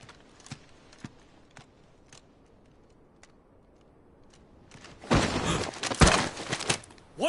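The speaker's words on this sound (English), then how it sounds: "I'll ready your steed." Horse hooves clip-clopping in the video game Final Fantasy 16: faint, evenly spaced hoof clops over quiet ambience, followed by a loud, busy burst of movement near the end.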